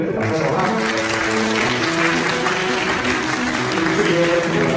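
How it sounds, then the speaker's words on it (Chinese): Wedding guests at a church thanksgiving service give warm, sustained applause, a steady wash of many hands clapping throughout with a voice faintly mixed in. "我们再给他一个热烈的掌声好吗？"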